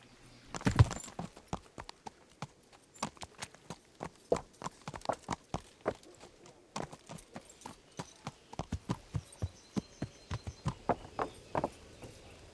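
Hooves clip-clop steadily from Olena, a rider's horse in Kingdom Come: Deliverance, a brisk, regular rhythm of close, crisp strikes continuing throughout, with one louder knock near the start.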